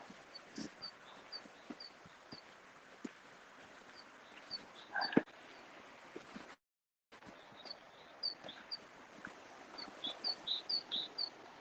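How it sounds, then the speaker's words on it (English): Birds chirp up in the trees in short, scattered high tweets over a steady background of flowing river water, growing busier toward the end. "See the birds up there?"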